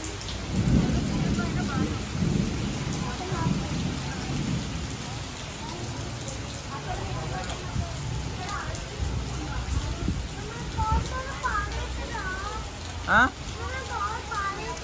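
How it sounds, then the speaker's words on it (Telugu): Rain falls steadily in a thunderstorm with low rumbles of thunder rolling beneath, fairly faint and distant, with a brief sharper crack near the end and occasional voices in the background. "చాలా ఉరుములు మెరుపులు వర్షం"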